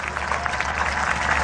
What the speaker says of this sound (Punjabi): ਇੱਕ ਵਾਰੀ ਜ਼ੋਰਦਾਰ ਤਾੜੀਆਂ ਦੇ ਨਾਲ